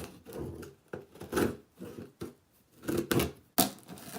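Blade or scissors slicing through a shoebox package wrapping, with repeated scraping, rasping cuts in short uneven bursts, close and fairly loud, no talking.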